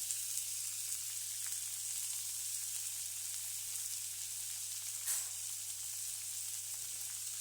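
Shallots and curry leaves sizzle steadily in hot oil in a pan for a pineapple stir fry, a constant close frying hiss with a brief louder crackle midway and no talk.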